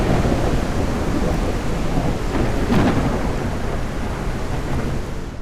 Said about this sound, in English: We have spawned in the middle of a storm